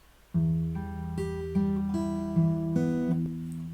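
Fingerstyle acoustic guitar plays a slow phrase of a song from Final Fantasy X, about eight plucked notes and chords ringing clearly one after another with no voice over them.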